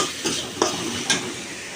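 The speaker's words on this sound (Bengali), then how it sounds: "এখানে বাগার দেওয়ার জন্য দিয়ে দিলাম পেঁয়াজ আর রসুন।" Onion and garlic fry in hot oil for a tempering over taro leaves, a steady close sizzle punctuated by three quick stirring scrapes, no voices.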